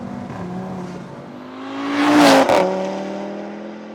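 Audi RS3 8V pre-facelift hatchback with a heavily modified exhaust, revving hard: the engine idles steadily, climbs to a loud rising blip around the middle, then cuts back with a crackle and settles to idle, no talk.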